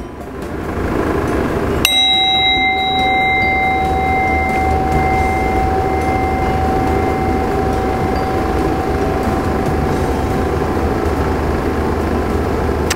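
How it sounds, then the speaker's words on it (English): A single bell is struck once and its clear ringing tone slowly fades out over several seconds, heard alone over a steady low background rumble. "So this time when we listen to the bell, I want you to try and listen to it a little bit longer."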